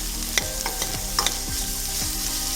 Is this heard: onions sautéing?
yes